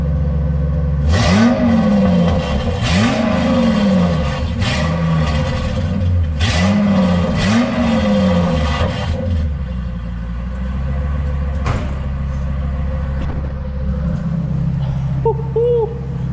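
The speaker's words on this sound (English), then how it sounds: "That is a true straight pipe V10 Excursion" Straight-piped V10 exhaust on a Ford Excursion, revving in a series of five sharp blips that rise and fall, then settling into a deep loud idle rumble alone.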